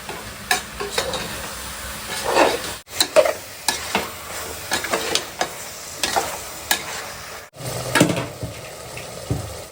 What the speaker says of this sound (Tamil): காளான் போட்டு நல்லா வதங்கிடுச்சுங்க